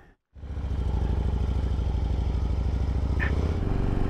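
A motorcycle engine starts and settles into a steady, loud, close rumble that pulses evenly, heard on a solo ride trip through Northern California.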